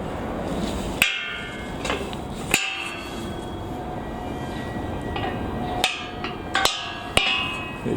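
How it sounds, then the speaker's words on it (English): A bolted metal gate to a small chapel garden is rattled and knocked, giving several sharp metallic clanks and bangs over steady outdoor background noise. "Can I open the gate?"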